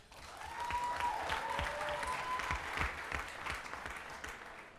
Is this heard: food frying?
no